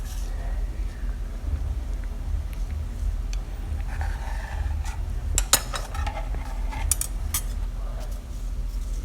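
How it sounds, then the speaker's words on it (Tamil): A dosa spatula cutting through stacked samosa sheets on a pan, giving a few sharp metallic scrapes and taps over a low steady background hum. "நான் வந்து தோசை கரண்டி வச்சு தான் கட் பண்ணுறேன்"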